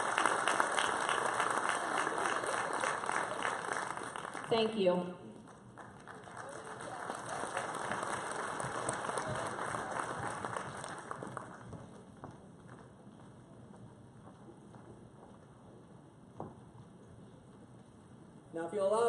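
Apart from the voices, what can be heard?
audience applause for Megan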